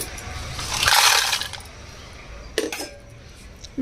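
Dried red chillies tumble into a stone mortar with a dry, clinking rattle that swells near the start, then a couple of sharp knocks follow as the pieces settle.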